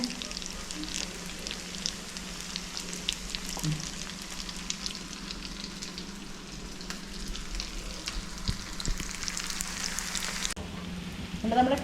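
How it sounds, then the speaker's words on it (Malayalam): Kilikkoodu, a nest-shaped snack, frying in hot oil gives a steady, dense sizzle with crackling pops throughout, close and fairly loud, with no talking. "ബാക്കിയും കൂടെ നമുക്ക് ഫ്രൈ ചെയ്തെടുക്കണമല്ലോ"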